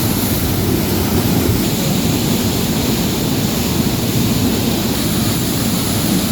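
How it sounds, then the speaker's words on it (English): Roaring, steady rush of a tall waterfall about 300 feet high, water crashing against rocks close by, loud and continuous with no voices. "I was overwhelmed by the sheer noise and presence of the water crashing against the rocks."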